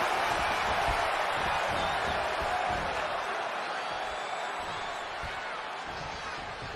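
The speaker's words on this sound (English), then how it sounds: "just listen to this Tokyo crowd" Tokyo arena crowd roaring and cheering during a wrestling match in WWE 2K20, a steady dense wall of crowd noise filling the whole stretch without a break.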